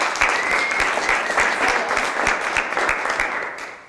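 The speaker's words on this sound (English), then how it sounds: "So give yourself a round of applause." Participants at the end of a six-week cleanse challenge session give loud, close applause, with individual hand claps ringing out rhythmically through a steady clapping wash before it tapers off.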